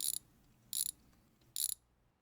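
Three quick bursts of ratchet wrench clicking while the rocker arms come off an engine on a neglected Ford Focus in a home garage, evenly spaced with a low background hum.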